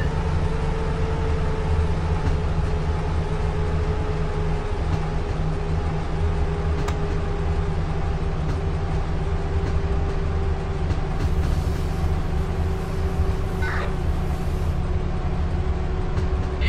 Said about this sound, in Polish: Ale głośno jest ta lokomotywa.